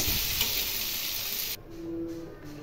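Pumpkin pieces frying in hot oil in a wok give a loud, steady sizzle that cuts off abruptly partway through, leaving a quieter background hum with a faint tone.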